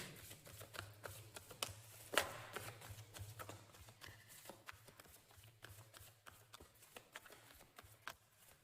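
Oracle cards being shuffled and drawn by hand, soft papery riffles and flicks in quick irregular bursts, quiet and close, with a faint low hum underneath.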